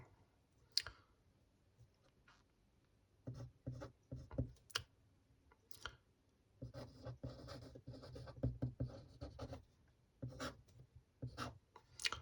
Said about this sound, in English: write the top 10 finishing order